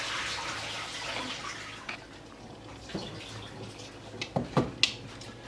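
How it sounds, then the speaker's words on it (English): Water strained out of a cooking pot of mung bean soup, a soft running pour and splash that fades, then several small close drips and splashes. "let me just strain the water first"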